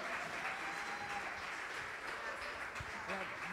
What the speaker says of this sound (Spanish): quien vamos a recibir con un fuerte aplauso